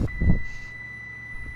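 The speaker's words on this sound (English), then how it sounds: "Got the beep there from the autopilot." The autopilot in an A2A Cessna 172 in the FSX flight simulator gives a steady high-pitched electronic beep that holds throughout, over a low cabin and engine rumble.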